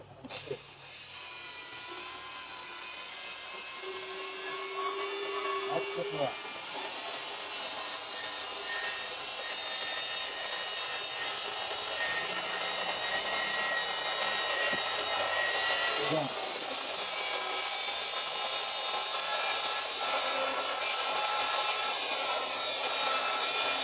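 Dongcheng DSP06-180 electric car polisher working on car paint in a detailing shop, a steady whirring hum that rises and holds for a long stretch, with people talking over it.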